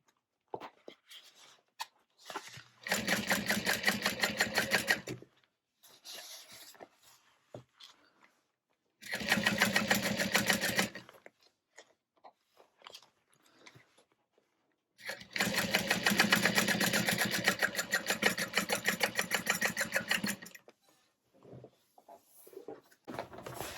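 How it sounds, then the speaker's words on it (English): A sewing machine top-stitches along a pressed-open seam of a tote bag, running in three bursts of steady rapid needle chatter, the last and longest about eight seconds, separated by quiet handling noises. "pressing that seam open and top stitching"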